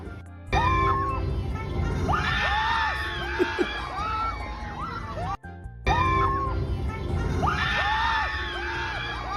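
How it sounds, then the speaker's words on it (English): Riders on a Disneyland ride scream loudly and continuously, several voices overlapping in rising and falling shrieks close by, with a brief cut midway before the screaming resumes. "My friends scream pretty loud."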